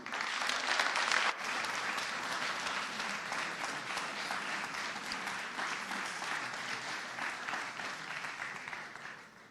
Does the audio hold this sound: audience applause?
yes